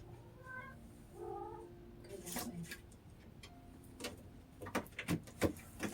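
A cat lets out a few drawn-out meows and wailing calls early on, faint and somewhat distant, followed by sharp clicks and taps against low background hiss.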